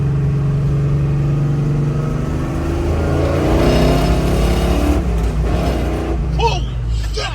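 A 1967 Chevrolet Chevelle engine with over 500 horsepower accelerating, a loud, deep exhaust drone whose pitch climbs steadily through the clip.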